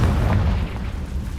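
The Confringo fire spell from Hogwarts Legacy bursts as a deep, rumbling blast and then fades into a low, lingering boom.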